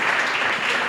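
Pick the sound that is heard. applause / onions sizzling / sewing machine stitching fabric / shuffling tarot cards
applause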